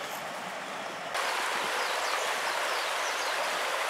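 A river flows beside a hiking trail on Kauai, giving a steady, full rush of water that grows slightly louder partway through and stays constant, with no voices.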